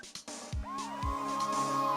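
A police siren from the Phoenix Wright: Ace Attorney video game wails with a rising, sweeping electronic tone over a low synthetic rumble, loud and close for about two seconds.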